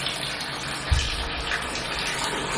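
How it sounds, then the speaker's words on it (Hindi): Tap water gushes steadily into a container in a guesthouse bathroom near Pangong Lake in Ladakh, a loud, close, continuous rush with a brief knock partway through. "पानी इसमें भर के रखते हैं थोड़ा सा।"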